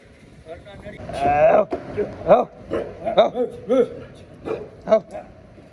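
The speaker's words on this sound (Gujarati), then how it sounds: "આ તો કૂતરી હે" A female dog nearby gives a series of short yips and whining whimpers, rising and falling in quick bursts, with a voice speaking at times.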